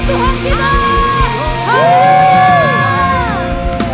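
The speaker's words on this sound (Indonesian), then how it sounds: "Mari kasih tepuk tangan yang meriah buat Tuhan kita." A church congregation cheers with rising and falling whoops and shouts from many voices, loud and close, lasting a few seconds.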